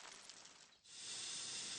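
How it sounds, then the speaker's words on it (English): A cartoon steam locomotive's boiler lets out a loud, continuous hiss of steam that briefly dips and then swells stronger and steadier. "Coal has heated up Thomas's boiler. Now he can make steam."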